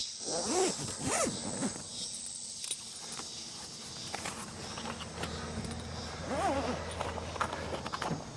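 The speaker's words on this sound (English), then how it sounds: "And then you just zip it up." A zipper drawn along the fabric wall of a W270 awning, with several short rasping pulls and handling rustle outdoors, some faint voice-like sounds in the background.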